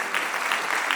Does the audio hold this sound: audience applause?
yes